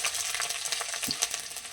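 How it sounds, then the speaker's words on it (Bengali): Garlic cloves fry in a pan with a bright, crackling sizzle and a few soft stirring scrapes, close and alone with no talk. "এবারে ভেজে দেব রসুনগুলো"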